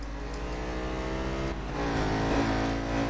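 Clubman race car engine in a racing video game, a steady droning buzz with layered harmonics that rises slightly in pitch and intensity partway through, heard alone at moderate loudness.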